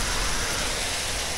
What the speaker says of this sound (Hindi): बारिश कितनी तेज़ है